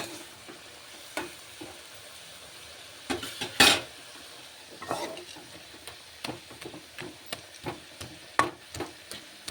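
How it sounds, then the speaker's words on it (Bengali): Spinach and potatoes with a little sugar are stirred in a pan, soft frying sizzle under repeated scrapes and knocks of a utensil against the metal, including one louder clatter, with no one speaking. "খুব অল্প করে চিনিটা দিয়ে একটু ভালো করে নাড়াচাড়া করতে হবে"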